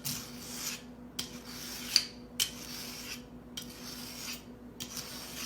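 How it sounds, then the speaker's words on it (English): Kitchen knife pulled through a handheld sharpener, four or five distinct scraping strokes at an even pace, close but fairly quiet, with a faint steady hum behind. "I've just got a sharpener, and what you do is you pull it like this real good"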